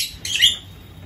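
A lovebird gives a single short, bright chirp near a colony breeding box as a pair goes inside, with quiet background noise around it.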